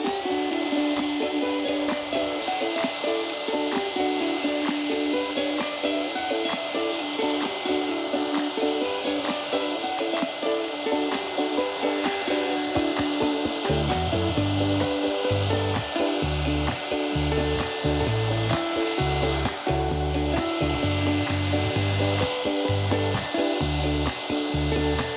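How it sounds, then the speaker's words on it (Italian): Hair dryer blowing steadily for the whole stretch while a wet sponge paint coat is dabbed onto an old chest of drawers, with rhythmic scraping and dabbing strokes growing prominent in the second half. "Prendo un phon, asciugo mentre passo la spugna."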